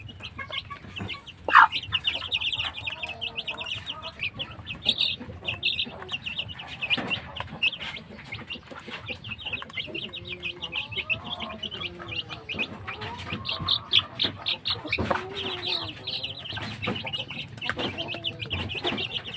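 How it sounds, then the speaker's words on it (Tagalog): White asil chickens cluck and murmur close by for the whole stretch, with scattered sharper squawks over a constant outdoor background hum. "Ito na yung anak ng ating white asil na manok."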